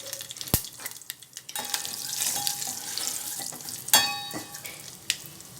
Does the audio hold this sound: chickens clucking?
no